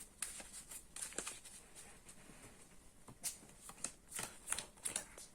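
Yu-Gi-Oh trading cards are shuffled by hand, a series of soft, crisp riffling and snapping bursts at an uneven pace, close and fairly quiet with no talk over them.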